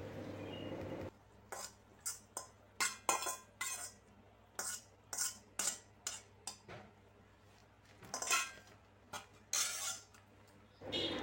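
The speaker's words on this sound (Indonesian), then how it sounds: "Kemudian masukkan daun singkong yang sudah kita potong-potong tadi." Chopped cassava leaves are stirred in a pot, with a spoon scraping and clinking against the metal in a quick series of sharp, close knocks after a quiet opening.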